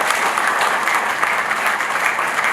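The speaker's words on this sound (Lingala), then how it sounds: "l'interrompaient par des applaudissements" A conference audience in Lualaba applauds, with loud, dense clapping that stays steady and continuous from start to finish.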